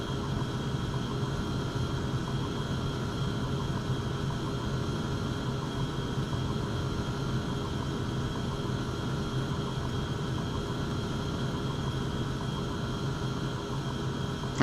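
Steady, loud drone of a Tupolev Tu-134 airliner's engines in Flight Simulator 2004 during a Tallinn to Budapest flight, unbroken and constant throughout with a faint hum riding on top.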